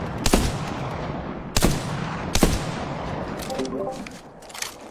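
Video game gunfire in Apex Legends ranked play: three sharp, loud shots at roughly even intervals, followed by fainter scattered pops and small clicks, with the mix fading toward the end.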